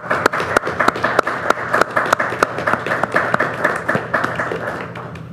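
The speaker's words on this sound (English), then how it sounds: "I would like to start a big round of applause for the time and effort that she has put in with" Applause at a county development and property committee meeting: a room of people clapping steadily for about five seconds, sharp individual claps standing out close by over a dense patter, no talking.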